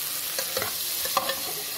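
Sliced tomatoes sizzling and being stirred in a pan before squid is added, a steady frying hiss broken by a few scraping stirs and small pops, close and fairly quiet.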